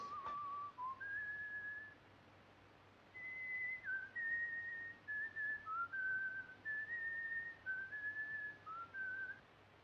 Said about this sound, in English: That tune you are whistling, sir, it is an English tune, isn't it?